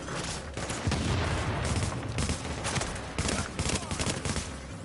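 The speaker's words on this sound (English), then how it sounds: "You continually shoot that guy." Rapid gunfire in the video game Tom Clancy's The Division, dense bursts of repeated shots in steady volleys, loud and close with continuous crackling between bursts.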